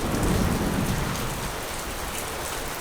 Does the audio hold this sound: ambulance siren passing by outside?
no